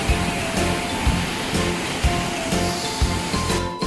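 Waterfall at Jok Kradin in Thailand, a steady loud roar of falling and splashing water with rhythmic surges, close by and with no voices.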